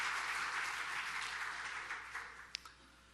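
A church congregation applauds its children's department teachers, giving dense, sustained clapping that fills the room and fades slightly toward the end, with a few sharper claps standing out.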